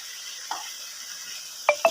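Chicken chow mein ingredients, including sugar and chicken powder, being stirred in a hot pan, with a steady faint sizzle and a few brief metallic scrapes and clinks of a utensil near the end.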